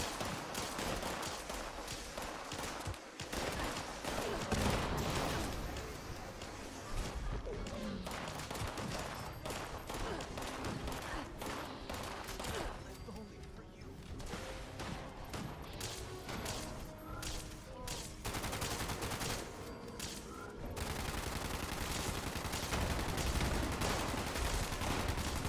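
Near-constant bursts of video game gunfire at an enemy, dense rapid shots and impacts layered over a busy, noisy game soundscape, with no clear talking.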